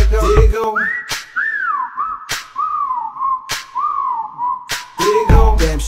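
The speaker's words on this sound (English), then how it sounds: "time to whistle at her" A man wolf-whistles at a girl, a series of sliding, warbling whistles across several seconds, close and loud, with sharp clicks or claps between them and brief voice fragments at the start and end.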